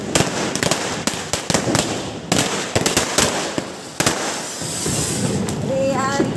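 Firecrackers set off during Diwali celebrations in Mumbai, with a rapid run of sharp, loud bangs that settles into a continuous crackling roar, close by and with voices mixed in.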